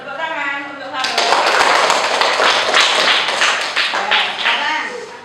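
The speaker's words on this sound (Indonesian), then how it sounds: "Tepuk tangan untuk Farouk." Classroom applause during a Quran recitation and tajwid lesson: a sudden burst of many hands clapping together, loud and dense, lasting several seconds and thinning slightly toward the end.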